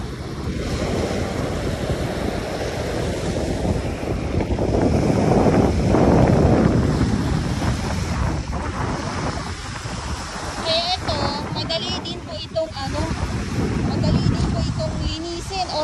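Waves washing onto Dolomite Beach on Manila Bay, with steady wind buffeting the microphone, a continuous broadband wash that swells midway, while a voice talks over it throughout.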